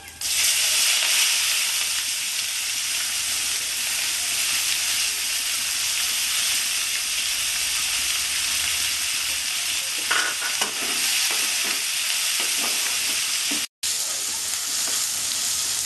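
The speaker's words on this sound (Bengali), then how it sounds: "আমার 5 ফোড়নটা ফুটে গেছে, এবার আমি পেঁয়াজগুলো দিয়ে দেবো।" Onions tipped into hot oil where five-spice seeds are already crackling, for a Bengali-style bata fish curry; a loud, steady broadband sizzle runs throughout, briefly broken by a short gap near the end.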